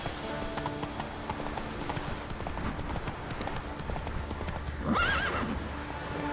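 A horse in The Witcher 3 gallops with steady, rapid clip-clop hoofbeats over a low ambient bed, then lets out a brief whinny near the end.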